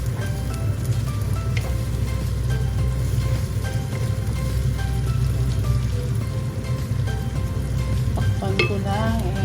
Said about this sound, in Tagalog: I will simmer it for 5 minutes